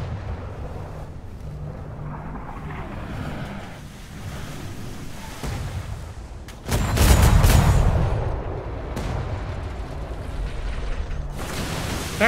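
Ship cannons firing in the video game Atlas, over surf and wind at sea: one heavy, booming blast rises abruptly midway and rolls off, with a second sharp report near the end.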